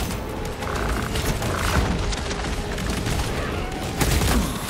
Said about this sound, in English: Let me just put a lot of good bullets downrange.